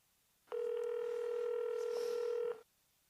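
Telephone keypad DTMF tones sound as one steady two-second beep, loud and close, alone with no voices, before a call to a police station.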